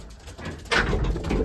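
Young racing pigeons coo softly near a loft, a brief muffled low cooing that swells halfway through amid faint background rustle.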